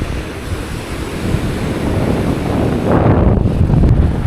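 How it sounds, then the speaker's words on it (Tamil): Strong seaside wind near Ramanathapuram buffets the microphone in loud, rumbling gusts while waves wash against the shore beneath it. No one speaks. "சூப்பராக இருக்குது, நல்லா காற்றடிக்குது"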